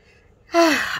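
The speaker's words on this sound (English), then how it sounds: "how aggravating it is for me to just constantly yawn when I'm talking" A person yawns mid-talk, with a sudden loud breathy gasp-like yawn that holds briefly, heard close and alone.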